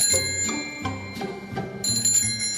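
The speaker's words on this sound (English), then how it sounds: "That's my actual little bike bell." A small bicycle bell rings in a studio, struck repeatedly in quick bright dings with a steady, irregular rhythm, close and fairly loud.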